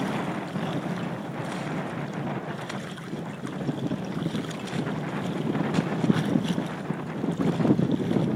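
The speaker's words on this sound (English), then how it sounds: "pull the tiller towards you to stop that sail flapping." Sail on an Optimist sailing dinghy out on the water, heard as continuous wind-buffeted rushing and fluttering noise with gusty surges, no voices.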